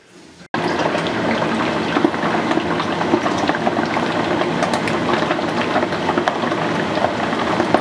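Food deep-frying in a big pot of peanut oil gives a steady, dense bubbling crackle that starts abruptly after a brief quiet moment and continues loud and even throughout, with no talking.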